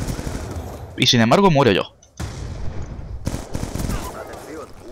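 Bursts of rapid gunfire in the shooter game Black Ops 2, brief and crackling, sitting under and between a man's speech and overlapping his voice.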